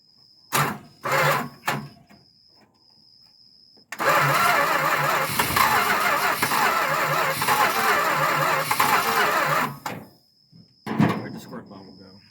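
A car with its auxiliary carburetor diaphragm out makes a few short cranking attempts on a cold start, then catches and runs loudly for about six seconds before cutting out. Brief sputters follow.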